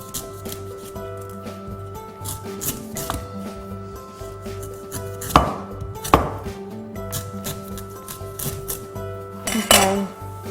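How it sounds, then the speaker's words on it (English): A cleaver scrapes and chops at the top of a coconut, giving irregular knocks and sharp clinks with rubbing scrapes between them, close and fairly loud. "to open up a coconut, we simply grab a cleaver and shave down the top"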